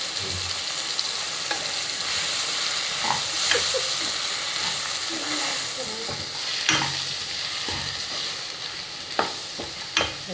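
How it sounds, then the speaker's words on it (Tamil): Chicken curry ingredients sizzle and fry steadily in a pan, with a continuous close hiss broken by occasional scraping stirs, no voices. "எல்லாத்தையும் ஒன்றா கட்டி நல்லா வதக்கிக்கலாம்."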